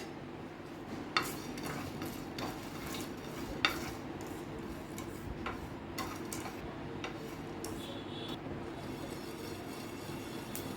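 Whole spices, including broken mace, dry roasting in a pan make quiet rattling and scraping with occasional sharp clicks of a spoon against metal, a soft, irregular texture without talk.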